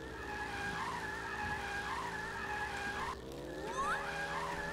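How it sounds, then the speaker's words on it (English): A kart in the video game All-Star Fruit Racing drifts with a long, steady tire skid over a droning engine, then the skid cuts out and a rising engine whine follows. "We're just going to drift the entire trip."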